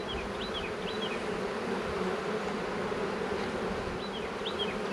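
Thick, continuous buzzing of many honey bees close by at their hive on a chilly, windy February day, with occasional individual bees whining past and a breezy background.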